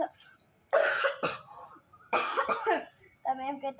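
Several rough, close coughs come in separate bursts, with a voice speaking briefly at the end.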